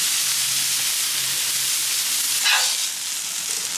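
Half-pound burger patties sizzle on a Blackstone griddle, a loud, dense, continuous frying hiss heard up close with a brief surge of steam partway through and no voices.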